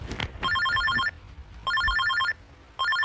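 Telephone ringing in three loud, evenly spaced bursts of bright trilling bells, each lasting about a second, with short silent gaps between them.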